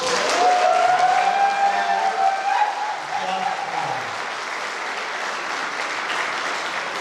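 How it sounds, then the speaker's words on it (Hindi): A large seminar audience applauds loudly, the clapping dense at first and then settling into a steady patter, with a tonal whistle-like sound and some voices mixed in. "और देखना, अगर ताली कम बजाओ तो जैक बुला दूंगा।"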